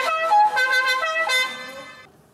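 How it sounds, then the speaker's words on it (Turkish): A car horn honks in a sustained, moderately loud blare with short pulsing accents, then cuts off, no voices over it. "Şimdi ben korna çalacağım."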